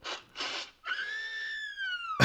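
A voice imitates the peculiar song of the Aracuan bird from Disney cartoons with two quick breathy bursts, then a long wavering whistle-like squeal that ends abruptly, close and fairly loud.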